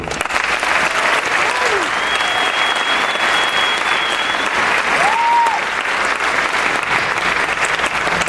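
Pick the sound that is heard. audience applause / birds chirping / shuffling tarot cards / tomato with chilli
audience applause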